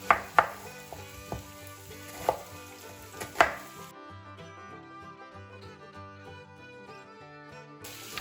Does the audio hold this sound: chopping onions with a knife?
yes